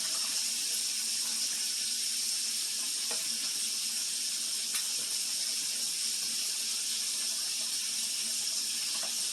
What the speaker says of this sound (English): Turn the water down a little bit.